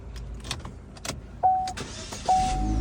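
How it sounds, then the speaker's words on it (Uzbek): A Chevrolet Cobalt car starts up: a few soft clicks and two short electronic chirps, then the engine catches and settles into a steady, close running hum. "Mashina zavod bo'ldi."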